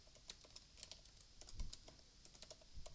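Quick tapping on a computer keyboard while styling a contact form, a faint close string of light clicks with uneven rhythm, no voices.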